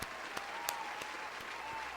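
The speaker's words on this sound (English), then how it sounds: "Can we get a round of applause for that?" An audience gives a round of applause, a steady, even wash of many hands clapping that sounds distant and faint throughout.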